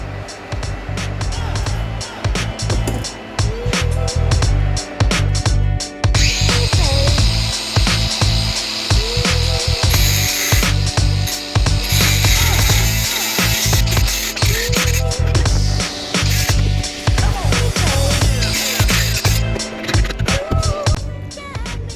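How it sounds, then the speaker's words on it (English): A slot is cut into a metal motorcycle bracket in a workshop, giving a loud, continuous stretch of harsh rasping and grinding with uneven strokes throughout, and a few brief pauses in between. "I've just cut a slot into this bracket over here and on the other side as well"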